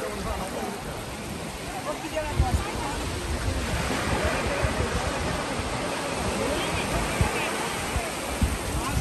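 Sea waves roll in as the tide rises at Kiran Sea Beach on Henry's Island, Bakkhali, a broad continuous wash of surf with wind buffeting the microphone, steady and fairly loud throughout.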